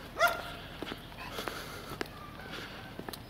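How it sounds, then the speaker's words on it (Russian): Several dogs bark outdoors along a city street in Barnaul, one sharp bark close by at the start, then scattered fainter barks and yips from farther away over a quiet street hum. "Везде собачки лают."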